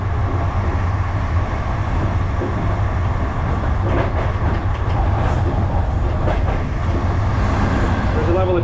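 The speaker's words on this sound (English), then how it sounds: "We took a local train running within Laos between Vientiane and Botan" Interior of a local train running in Laos between Vientiane and Boten: a steady, loud rumble and rattle of the carriage on the rails, continuous throughout, with faint voices underneath.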